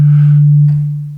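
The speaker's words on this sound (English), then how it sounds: "256 sine oscillators play the same frequency. It sounds like a sine." A Zebralette 3 synth with 256 sine oscillators at one frequency produces a pure, steady low sine tone, loud and close, fading out after about a second.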